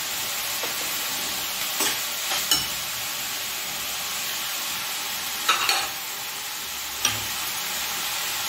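Steady close sizzle and hiss of carrot and capsicum sautéing in a pan, broken by a few brief scraping stirs of a spatula, with no talking.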